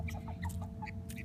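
A pet guinea fowl clucks in short, repeated chirpy calls, close and moderately loud, over a steady low background hum, with no talk.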